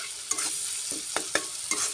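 Spices with turmeric are stirred in a frying pan, giving four or five distinct scraping strokes over a low, steady sizzle, close and clear.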